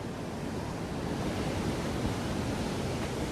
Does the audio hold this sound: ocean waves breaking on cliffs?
yes